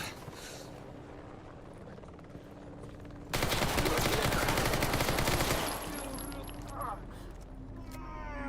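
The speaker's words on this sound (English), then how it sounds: "They keep shooting me in the arm here." Mercenaries firing in Stalker Gamma, a dense burst of loud gunfire in the middle over a steady roaring background, with speech around the shots.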